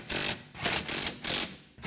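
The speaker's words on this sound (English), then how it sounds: "slowly run them up either with a ratchet or an impact driver" A ratchet runs wheel bolts up on the rear hub of a 2006 Subaru Outback, with four close, loud bursts of rapid clicking broken by short pauses.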